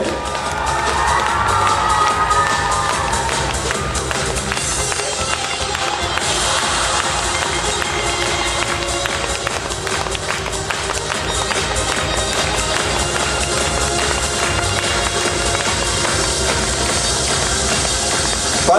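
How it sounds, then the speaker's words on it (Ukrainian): Loud, sustained cheering and applause from a large audience fills an award ceremony hall at a dance festival, a dense continuous roar with no break. "Ваши аплодисменты!"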